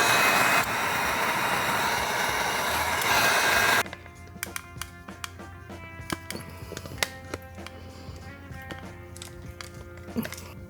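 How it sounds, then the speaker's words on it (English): A Wagner entry-level heat gun blows hot air onto plastic glue, starting as a loud, steady broadband roar for about four seconds before cutting out, leaving quieter clicks and handling noises. "This is just a entry-level Wagner heat gun"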